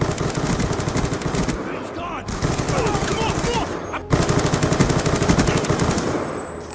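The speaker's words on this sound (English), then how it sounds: "It never gets old hearing the Peacekeeper and using it here." Rapid automatic fire from the Peacekeeper gun in the Call of Duty Ghosts video game, loud sustained bursts with brief gaps between them, mixed with game effects and some faint voice.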